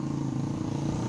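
A homemade off-road machine for hauling palm oil fruit runs with a steady, rough engine drone, close and continuous for a brief moment.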